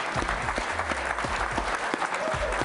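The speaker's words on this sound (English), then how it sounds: "Please give them your applause." A room applauds an aviation prize-winning team at a NASA event, dense clapping throughout at close range, with some low thumps and a faint voice-like murmur beneath.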